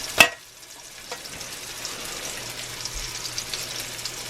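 Bacon frying in a cast iron pan, a quiet steady sizzle after a brief clatter at the start, heard close with no talking.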